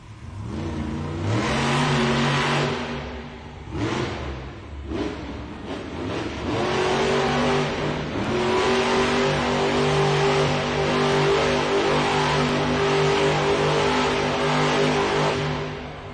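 A monster truck engine revs hard during a donut competition at an arena event in San Jose, a loud, sustained roar that climbs and holds with brief dips, with crowd and arena noise behind it.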